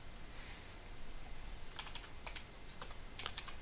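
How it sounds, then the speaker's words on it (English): Someone types a user password on a computer keyboard during a Mageia 5 KDE installation, a quick scatter of faint, close key taps over a quiet hiss. "Enter our user password."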